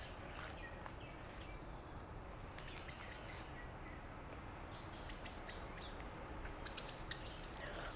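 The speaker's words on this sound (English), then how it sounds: "great homes to birds, as you can hear" Faint birds chirp and tweet intermittently among tall trees in Auckland, New Zealand, over a soft outdoor background hiss, with brief sharper calls toward the end.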